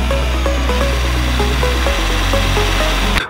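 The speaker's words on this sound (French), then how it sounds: "je vais juste changer la mèche et mettre une mèche fer pour pouvoir transpercer cette boule de bowling" A cordless drill fitted with a metal bit bores into a bowling ball, giving a loud, steady grinding whine with a strong low hum and rhythmic pitch steps throughout, cutting off abruptly at the end.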